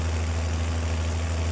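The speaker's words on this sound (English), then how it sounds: "I need to see if our little tractor can run this." A small farm tractor's engine hums steadily at a low idle-like drone during a canola and oat harvest, even and continuous with no talk.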